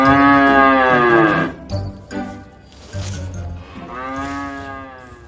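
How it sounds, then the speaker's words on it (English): A cow moos in long, loud, drawn-out calls near the start and again near the end, with a quieter stretch of low farmyard sound between them and no talking. "And now it's C for cow."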